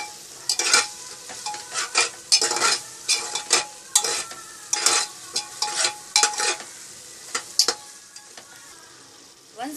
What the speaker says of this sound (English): Now we'll stir it so that all the spices mix well.